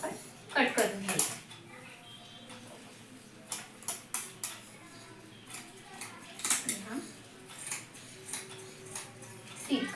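Scissors cut along the open side of salwar fabric with repeated close, crisp metallic snips in irregular bursts. Someone talks throughout.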